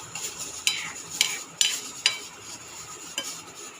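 Hilsa fish curry with pumpkin and eggplant simmering in a pot: a low bubbling hiss broken by several sharp taps of a spoon or ladle against the vessel, close and moderately quiet, with no speech.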